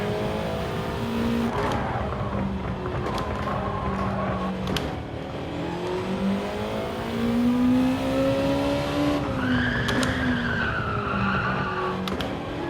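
A race car in a driving game keeps up a steady engine roar whose pitch climbs and falls through gear changes and corners. Tires squeal and skid throughout the laps.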